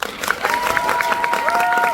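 Theatre audience applauding the stage crew at the closing-night curtain call of a musical, a steady wash of clapping with some cheering, a sustained tone running through it.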